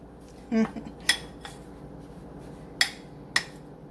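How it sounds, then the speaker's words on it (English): A utensil presses cold butter into a mixture in a bowl, giving a few scattered clinks and knocks of metal against the dish, each short and fairly close, with soft scraping in between. "Just keep pressing until the butter is crumbled up in there."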